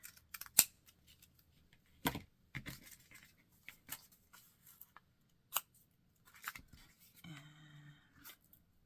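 Scissors cut through upcycled book pages with a series of sharp, crisp snips spaced irregularly, quiet and close. Soft paper rustling and handling fill the gaps, and there is no talk.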